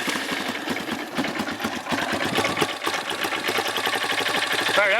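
A Honda CRF230 dirt bike fires up from a cold start with choke on, its single-cylinder engine settling into a fast, even idle that chugs loudly close by with no talk.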